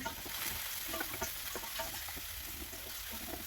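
Onion and garlic sautéing in hot olive oil in a wok for pancit noodles: a steady, even sizzle with soft crackles, fairly quiet and close, with no voices.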